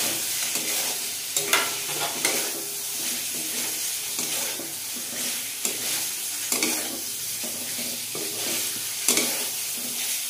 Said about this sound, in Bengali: এবার ভেজে রাখা পটল দিয়ে দিচ্ছি।